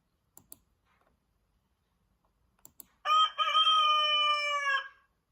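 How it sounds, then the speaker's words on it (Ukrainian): A single loud rooster crow, long and sustained, following a few faint clicks; no one speaks. "Півень кукарікає."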